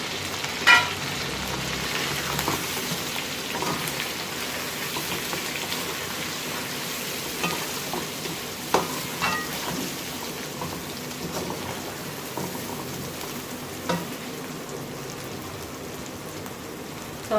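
Chicken frying in a pan with masala and already lightly browned, for a restaurant-style aloo gosht, gives a steady close sizzle and crackle with scattered pops and stirring scrapes, no talking.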